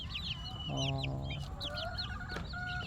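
Desi chickens in a rural Barisal homestead cluck and chirp close by, with a rooster-like call in the middle and chick peeps scattered over a steady outdoor background.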